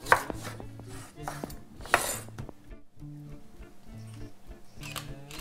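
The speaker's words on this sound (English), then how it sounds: "With the skin, because they are organic, cut in slices." A knife slices through organic oranges with the skin on, striking a board in a series of close, crisp chops and taps. Quiet pauses fall between the cuts.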